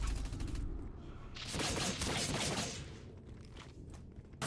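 Scrambler rifle fire in the sci-fi shooter Dust 514, a sustained crackling volley in the middle of the clip, with lighter shots and mechanical game sounds around it and no talking.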